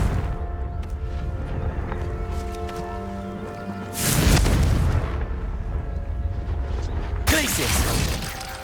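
A Confringo fire spell bursts in Hogwarts Legacy, with two heavy booming blasts that rise sharply over a dense background of game music and rumble, loud and close.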